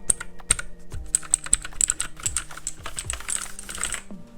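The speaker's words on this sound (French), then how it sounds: "J'appuie sur une touche sans faire exprès." Keys pressed on a new computer keyboard, a rapid irregular run of close clicky strokes with slight resonance, no voices.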